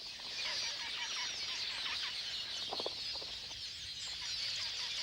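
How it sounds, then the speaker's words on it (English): At a crowded nesting colony, quelea finches courting fill the air with dense, continuous high-pitched chatter and twittering, with a few brief, slightly louder calls standing out; no voices. "every bush is alive with courting birds"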